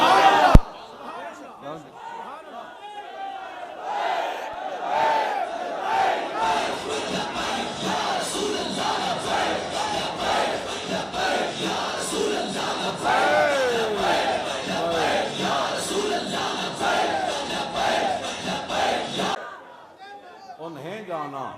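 A large gathering at a religious address chants the slogan "Labbaik Ya Rasool Allah" in loud, sustained unison for nearly twenty seconds, with rising and falling waves of voices before the chanting cuts off.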